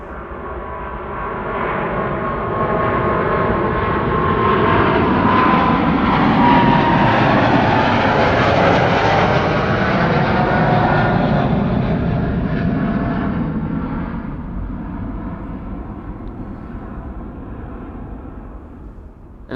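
Jet airliners departing Amsterdam Schiphol Airport on a sunny morning: a loud, continuous engine roar builds, peaks mid-clip and slowly fades as the aircraft climbs away, with no voices.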